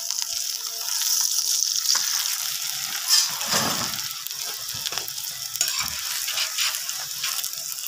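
A ghee-brushed paratha fries on a hot griddle, giving a close sizzle with soft scraping and clicking as it is handled, a brief louder burst partway through, and no talking.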